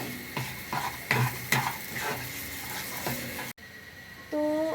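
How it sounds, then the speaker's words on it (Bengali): Ginger-garlic spice paste sautéing in a pan over a medium flame, a soft sizzle under repeated scraping strokes of a spoon against the pan, then a short pause before a clinking sound. "গ্যাসটাকে একদম মিডিয়ামে রেখে আঁচটাকে ভালো করে কষতে হবে।"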